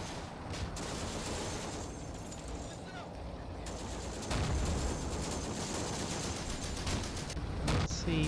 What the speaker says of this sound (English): they have some anti-tank weapons that are hitting my vehicles